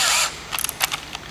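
A cordless drill bores a pilot hole into a round fiberglass column, a brief high whir at the start followed by scattered clicks and short mechanical bursts, close and fairly loud.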